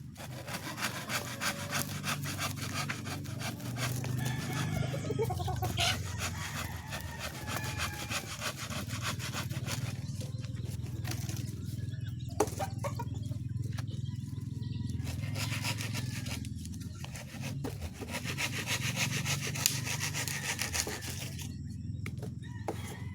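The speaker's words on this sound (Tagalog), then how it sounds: "pahasa ako po itong lagari, bagong hasa" A freshly sharpened hand saw rasps back and forth through wood in long, steady strokes, close by, with a few brief pauses; a rooster faintly in the background.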